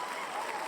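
A brief burst of dense crowd applause, steady and fairly loud, with no gaps and no other sounds.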